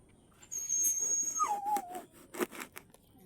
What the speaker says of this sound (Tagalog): Ang aso to nag-inarte na naman eh